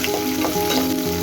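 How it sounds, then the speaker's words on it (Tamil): Sliced onions frying in hot oil until golden for a potato and green peas pulao, a loud, close, continuous sizzle with soft stirring scrapes. "2 வெங்காயம் வெட்டி வச்சுருக்கேன், அது இப்போ சேர்த்து நல்லா பொன்னிறம் வர வரைக்கும் வதக்கணும்."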